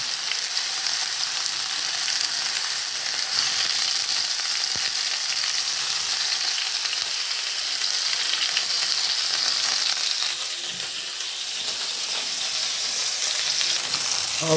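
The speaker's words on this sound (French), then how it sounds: "on met les morceaux de saucisse côté chair pour les colorer un peu" Sausage pieces frying flesh-side down in a pan for a sausage rougail, a continuous close sizzle with faint stirring noises throughout and no talking.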